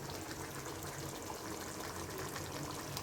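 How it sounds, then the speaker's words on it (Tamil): Soaking water and a glass of water pour into a pan of quail pepper masala gravy. The splash and gush is loud and steady and fills the whole moment, with no talking over it. "இதில் இருக்க அந்த ஊற வச்சுருக்க தண்ணியையும் நம்ம இந்த கிளாஸ் வச்ச தண்ணியையும் இதை ஊற்றிடலாம்."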